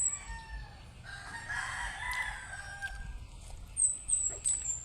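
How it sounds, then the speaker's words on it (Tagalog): A rooster crows out on a rural farm, with a long strained call in the middle and clucking and other birds chirping in the background. The crow is moderately distant and clear, with no talk. "Tingog sa manok."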